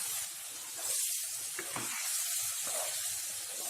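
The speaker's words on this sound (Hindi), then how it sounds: "इसे 10 से 15 सेकेंड के लिए भूनने के बाद मैरिनेट किया हुआ चिकन डाल देते हैं।" Marinated chicken with spices fries in a pan for Andhra chicken fry, a steady, dense sizzling hiss that holds throughout with slight swells, close and continuous, no talking.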